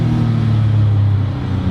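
A Porsche 996 Carrera track car with a lightweight flywheel and heavy clutch drones loudly from the cabin, a deep, steady engine rumble under load with no voices.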